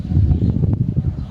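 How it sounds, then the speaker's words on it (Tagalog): Wind gusting outdoors at a pigeon truck-training release in Santo Tomas, Batangas, buffeting the microphone as a loud, continuous low rumble with uneven surges. "mahangin nga din mga kapatids"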